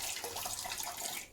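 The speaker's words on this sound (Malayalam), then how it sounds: "കുറച്ചും കൂടി വെള്ളം ഞാൻ ഒഴിച്ചു." Water is poured into a bowl of onion fritter dough mix, a short, continuous splashing trickle heard up close.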